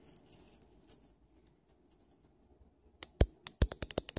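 A repaired microwave oven door switch clicks several times in quick succession after its spring was straightened, sharp close snaps following a quieter stretch of faint handling noise.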